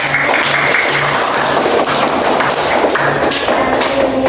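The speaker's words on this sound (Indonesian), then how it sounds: "kasih tepuk tangan teman-temannya" Classmates in a school classroom clap for a student, a loud, close patter of many hands with some sharper thumps, continuous across the whole stretch.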